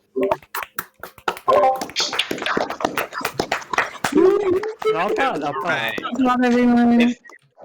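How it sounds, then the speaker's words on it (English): Several people clap over an online video call, uneven scattered claps and taps mixed with overlapping voices and talking throughout. "Everybody just gotta unmute and just clap real quick."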